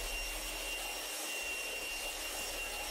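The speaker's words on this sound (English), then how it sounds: "A leaf blower, you'll be around the car in a few minutes." A steady, airy roar of forced air from a leaf blower drying a freshly washed car, with a thin whine riding on top; constant and fairly faint, with no voices.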